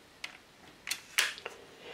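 An Olympus XA 35mm compact rangefinder camera is slid open by its grip pieces, giving a few quiet plastic clicks and a short sliding scrape, close up.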